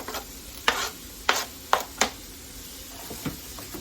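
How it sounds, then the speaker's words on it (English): Casserole ingredients sizzle in a hot pan with several sharp bursts as food is stirred and tossed, over a faint hiss, with no talking. "Sizzle, sizzle."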